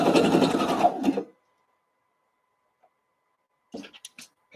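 Sewing machine running a brief burst of stitches to anchor elastic onto a flared knit pants waistband, a loud close whirr for about a second, then silence and faint handling clicks.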